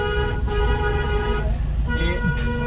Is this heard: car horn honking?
yes